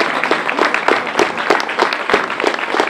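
Audience applause for a junior contestant at a regional French song contest in Tuffé: brisk, close clapping from a modest crowd, a steady patter of individual claps throughout.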